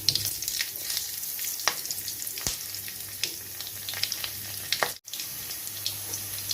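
Black cumin seeds and green chillies frying in white oil in a wok for spinach, a continuous crackling sizzle with sharp pops and occasional stirring scrapes, no talking.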